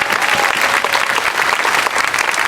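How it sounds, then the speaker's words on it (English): A rally crowd claps for Mayor Andre Rainey in loud, dense, sustained applause that holds steady throughout. "let's give our mayor, Andre Rainey, a big round of applause for putting this together."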